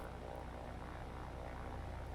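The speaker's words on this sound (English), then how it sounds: "Here's the view from our airplane that's about to go strafe them." A warplane in the naval game War on the Sea drones steadily as it flies in for a strafing run, a loud, continuous propeller-engine roar with no break.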